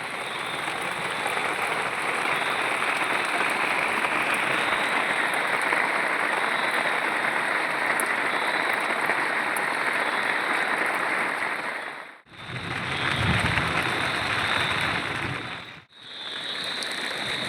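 Heavy rain pours down steadily in a dense, hissing wash, with two brief sharp cutoffs near the end.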